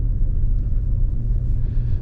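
A steady, deep engine rumble drones continuously from inside a new Ford Focus pulling uphill, its naturally aspirated 123-horsepower engine near 2000 rpm, low and heavy with no other sounds.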